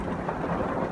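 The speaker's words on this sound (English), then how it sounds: "It's raining pretty hard" Heavy rain falling steadily at night around a parked camping van, a dense, continuous hiss and patter close by with no voices.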